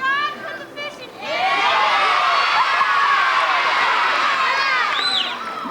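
A zoo crowd at a dolphin show cheers and shouts together, a loud, sustained roar of many voices, children among them, rising after a brief moment of scattered calls and holding for several seconds before dropping off.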